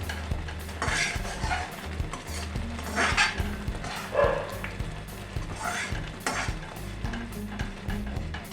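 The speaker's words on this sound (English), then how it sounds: "add salt to taste. And stir well properly." Gravy with salt and red chili powder is stirred in a pan for a roti dish, with repeated scraping and clinking of a spoon against the pan over a low frying hiss and no voice.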